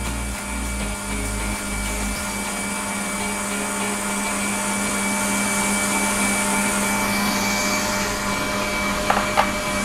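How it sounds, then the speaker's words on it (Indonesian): Electric mixer whipping meringue made with sugar and cream of tartar, a steady, loud motorized whir with a constant hum that continues without pause, ending in a couple of small clicks. "Ini di mixer sampai soft peak."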